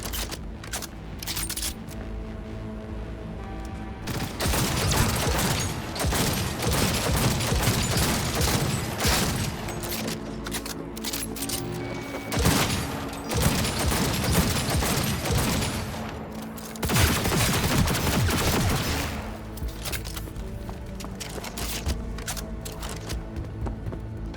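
Sustained firefight gunfire in Cyberpunk 2077, with dense rapid volleys of shots and impacts that build into louder bursts several times and keep going throughout, without pauses.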